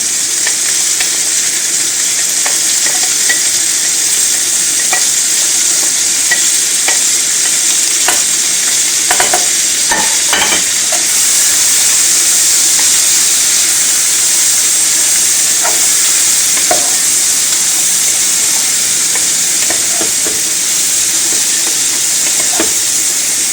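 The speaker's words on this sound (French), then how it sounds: "Maintenant, je vais rajouter poivron jaune, rouge, vert, oignon et ail" Chorizo sizzles steadily in a pan with yellow, red and green peppers, onion and garlic, a continuous close frying hiss broken by occasional sharp pops and stirring scrapes.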